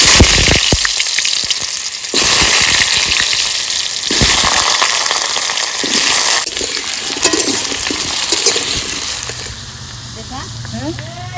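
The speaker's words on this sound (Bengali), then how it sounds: "ভেজে নি" Oil frying in a pan during a grandmother's home cooking of jackfruit with country chicken, a loud hissing sizzle with bursts and crackles that shifts in intensity, later quieter with faint background sounds.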